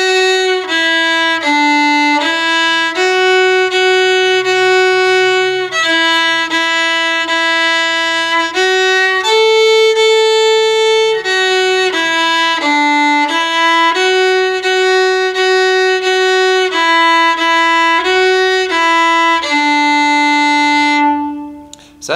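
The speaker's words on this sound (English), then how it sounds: "So Mary Had a Little Lamb sounds like this." Fiddle playing Mary Had a Little Lamb on open strings and a few fingered notes, a clear, steady run of sustained bowed notes with bright overtones, played solo and close without talk.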